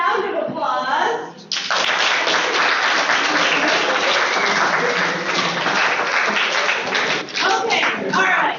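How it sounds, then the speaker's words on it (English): A high school classroom breaks into lively clapping after a student's turn. The brisk, close applause runs for several seconds, with talking just before and after it. "Let's give Mateo a round of applause."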